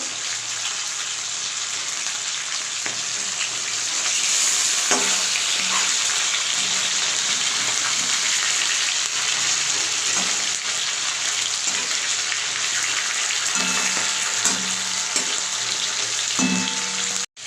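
Loud, continuous hiss and sizzle of small fish frying crisp in hot oil, with occasional soft clinks and scrapes, sustained throughout.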